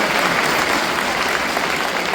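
Audience applause fills a large auditorium at an all-India conference of CA students, steady dense clapping from a big crowd throughout, loud and continuous with no talk over it.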